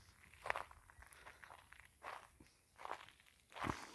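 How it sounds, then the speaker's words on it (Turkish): Four soft footsteps crunching slowly on a gritty outdoor surface at a carp fishing spot, quiet and unhurried, with faint background ambience. "Galiba ayak seslerim var."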